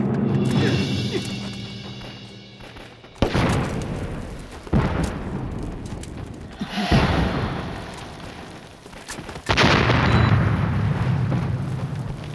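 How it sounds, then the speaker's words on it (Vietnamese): Grenade explosions in a Chinese action film, several loud booms at uneven intervals, each sharp blast followed by a long rumbling decay. "Ném lựu đạn, nổ chết chúng cho ta."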